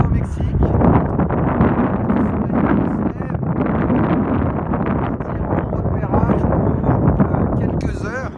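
Strong wind buffets the microphone outdoors in New Mexico, a loud, continuous roaring rumble that swells and dips, with a voice speaking under the gusts.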